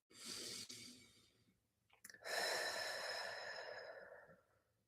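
Slow, deep breathing during a calm evening bay leaf ritual, with a long breath out, a short pause, then another long breath, close and soft with no words spoken.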